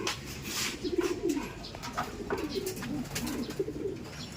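A pigeon coos softly in a repeated low rhythmic pattern, moderately close, with faint background noise.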